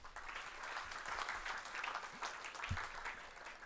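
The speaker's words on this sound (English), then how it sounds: "Give us some applause for yourself." Audience applause at a university orientation day for first-year MBA and MCA students, a steady wash of clapping at moderate distance, fairly soft and even throughout.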